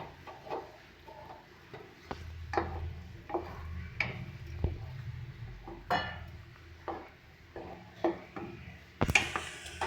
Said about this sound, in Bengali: এবার এর মধ্যে আমরা ফেটিয়ে রাখা টক দইটা দিয়ে দেবো। ভালো করে নেড়ে নিচ্ছি।